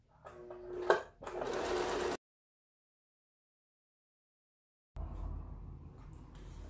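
A sewing machine stitches around fabric Easter eggs for an Easter wreath, running in a short whirring burst before a silent gap, then a low steady hum returns.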